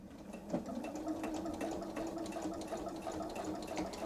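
A sewing machine stitches with a 1/4 inch presser foot in a continuous soft, even hum with a rapid needle rhythm. The sound is fairly quiet and carries on with no voices.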